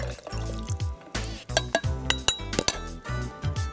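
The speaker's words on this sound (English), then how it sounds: "Add 1/2 cup of milk to the blender." Milk glugs and splashes into a blender in uneven pulses, with a few light clinks, close and moderately loud.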